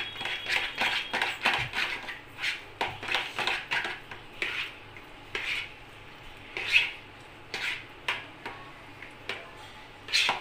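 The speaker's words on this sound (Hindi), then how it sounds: "इसको एक बाउल में लेके अच्छे से मिक्स करेंगे" Spoon scraping and clinking against a bowl while mixing strained curd, a run of quick, fairly close taps and scrapes in an uneven rhythm.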